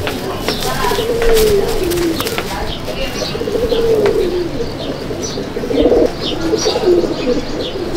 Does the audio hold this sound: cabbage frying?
no